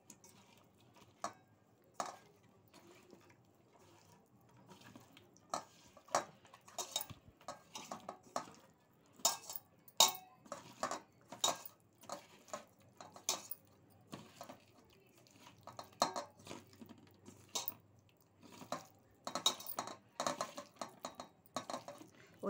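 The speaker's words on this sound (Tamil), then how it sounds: "எல்லா மசாலாவையும் நம்ம கலந்துக்கலாம்" Wet clinks and soft scraping as masala and oil are worked into fish pieces in a metal vessel for a village-style fish fry, irregular close taps and squelches against near silence.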